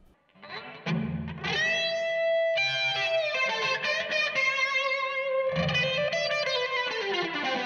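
Distorted electric guitar through a VOX VXII modelling amp on its Brit 800 setting, with hall reverb and flanger, plays sustained chords and ringing notes that swirl and shimmer, loud and close with no talking.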